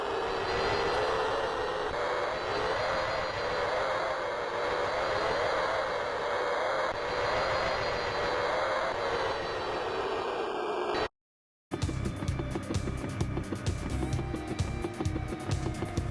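Helicopter engine from the Gunship 2000 flight sim on an Amiga CD32, a steady synthesized rotor-and-engine drone that runs loud and unbroken for about eleven seconds, then a brief dropout and a choppier, busier stretch of game sound.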